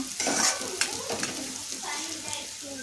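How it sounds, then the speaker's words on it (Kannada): Sliced onions sizzle and brown in hot oil in a pan while a spoon stirs them with scraping, clattering strokes, cooked for a chicken roast; a voice speaks faintly under the frying. "ನೋಡಿ ಈರುಳ್ಳಿ ಈ ರೀತಿ ಬ್ರೌನ್ ಕಲರಾಗಿ ಚೆನ್ನಾಗಿ ಫ್ರೈ ಆಗಬೇಕು"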